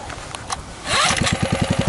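A Honda BF5 outboard engine cranks and catches, then settles into a steady, close, pulsing idle with a regular rhythmic thump.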